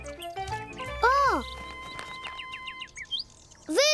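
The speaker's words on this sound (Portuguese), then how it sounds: "Vejam, os pássaros voltaram." Bright, sweeping bird chirps and tweets sound close by in quick bursts, with a few sharper high calls and a pause before the last chirp.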